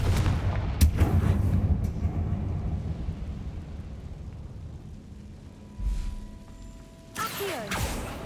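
The Confringo fire spell bursts in Hogwarts Legacy with a heavy booming blast up front, then rumbling debris and later smaller crashes and impacts, loud and close within the game's ambience.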